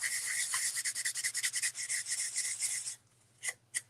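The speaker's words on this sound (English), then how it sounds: "I just have a little dust rag that I like to use to wipe off all the sawdust." A dust rag wipes sawdust off wood in quick rhythmic rubbing strokes, close and fairly crisp, stopping after about three seconds and followed by two short brushes.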